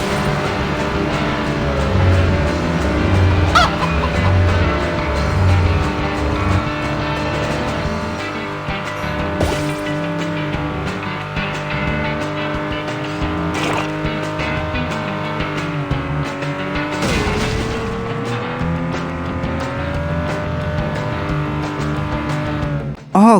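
Race cars in the video game Beach Buggy Racing whine steadily with rising and falling engine pitch and occasional skids, loud throughout, while a person talks over the game sounds.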